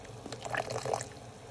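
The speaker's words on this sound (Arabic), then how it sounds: "وتوا نزيد شويه ماء زهر" A brief splashy trickle of orange blossom water poured into a pot of boiling syrup for kunafa, lasting under a second, close and moderately loud.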